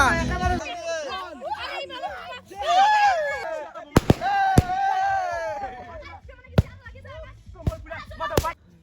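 Sharp firecracker bangs go off one after another at a New Year celebration, loud and close, while people talk and shout excitedly throughout.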